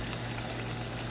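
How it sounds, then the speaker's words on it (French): Water at a rolling boil makes a steady, dense bubbling hiss with a low rumble underneath. The sound is continuous and close, with no pauses. "de l'eau bouillante, j'obtiens"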